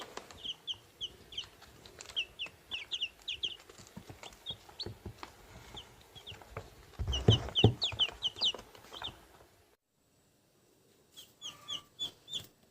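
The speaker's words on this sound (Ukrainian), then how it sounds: "Курчаточки!" Cochin chicks on a poultry farm cheep and cluck in quick repeated bursts close by, with a brief rustle midway, a short pause near the end, then more chirping.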